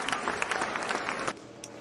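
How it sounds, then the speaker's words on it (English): Audience clapping for a featured guest on a talk show, a brief burst of applause that fades out after about a second. "if you guys want to give a hand clap for tonight's featured guest, Mr. Keontae Pegues"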